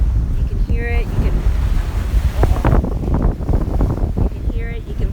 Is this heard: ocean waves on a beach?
yes